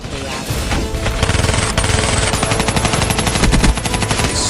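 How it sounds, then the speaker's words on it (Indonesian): Dense battle sound effects of rapid rifle fire and booming cannon, a continuous loud barrage of overlapping shots with no pauses, staged for a school historical drama of Dutch and Acehnese troops clashing. "medan pertempuran yang dipenuhi suara dentuman meriam dan letusan senapan"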